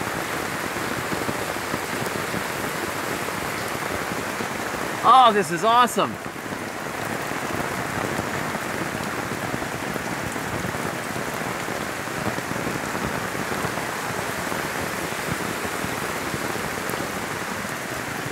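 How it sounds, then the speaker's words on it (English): Heavy rain pours down outdoors in a garden, a dense, constant hiss that fills the whole stretch, with a person briefly speaking partway through. "and then give us a huge amount of rain"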